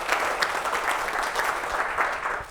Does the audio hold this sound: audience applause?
yes